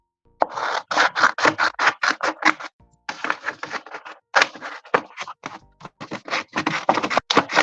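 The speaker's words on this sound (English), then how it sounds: "Smallest scissors in the world." Tiny scissors snipping in quick irregular bursts of sharp crisp cuts, close and clear, with a few short pauses between runs.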